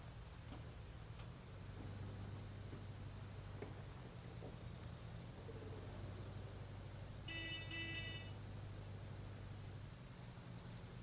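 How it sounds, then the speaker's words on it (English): A large truck's horn in the video game RoadCraft honks once with a bright, harsh tone about two-thirds of the way through, over a steady low engine drone and rain. "So einen großen Truck klingt die Hupe ganz schön scheiße."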